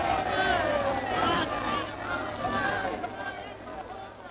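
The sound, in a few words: crowd noise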